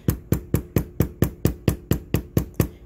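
A textured bevel foot is walked along a metal piece for a bracelet or pendant leaf cone, tapped by a hammer in a steady run of about a dozen crisp, evenly spaced strikes, close and alone.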